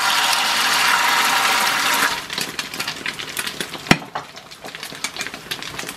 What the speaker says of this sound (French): l'huile est bien chaude, maintenant je vais faire cuire. Donc je verse délicatement.